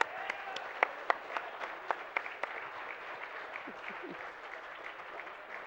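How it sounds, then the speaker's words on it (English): A crowd at a speedrunning charity marathon claps for donors, a faint wash of applause with several sharp, louder claps standing out early, then trailing off into softer scattered clapping. "Can we give a round of applause to everybody who donated to make this happen?"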